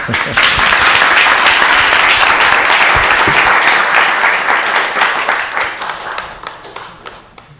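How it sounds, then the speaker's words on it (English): An audience claps to welcome guests at an evening spiritual class, a loud, dense burst of applause that holds steady and then thins out toward the end. "And clapping too."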